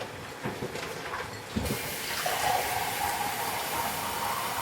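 Water runs steadily from a kitchen tap for butternut squash soup, with clatter at first and then a continuous gushing rush.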